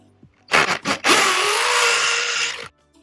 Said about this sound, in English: so I can just drill and put the bolt directly into the concrete